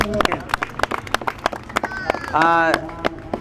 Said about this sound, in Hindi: जी डॉक्टर साहब के तालियां